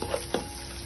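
Spices and fresh coriander sizzle in hot oil in a pan while a chicken curry is being made, a brief steady frying hiss with a couple of soft stirring scrapes.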